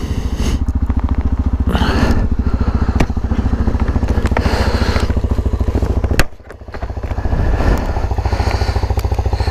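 A Magpower X-Trail 125 motorcycle engine idles loudly and close with a rapid, throbbing putter, briefly dipping as the revs drop before settling back.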